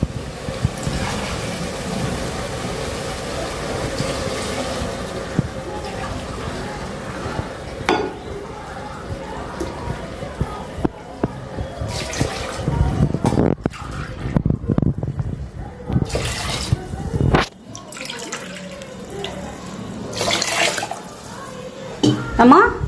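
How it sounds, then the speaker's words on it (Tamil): Mutton cooking water is poured into a biryani pot, giving splashing and trickling water with occasional clinks of cookware, uneven in loudness over more than twenty seconds. "நம்ம மட்டன் வேக வச்சோம் இல்லையா, அந்த தண்ணியை வந்து ஊற்றிக்க போகிறோம்."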